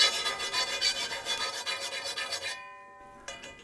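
A hand file rasps rhythmically across the teeth of a worn circular saw blade that cut wood slowly and roughly, with steady repeated strokes up close, then a brief pause and one more stroke.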